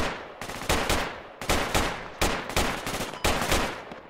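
Sustained bursts of automatic rifle and machine-gun fire from a squad in the military shooter game Project Reality, loud and close, coming in repeated sharp volleys with brief gaps between them.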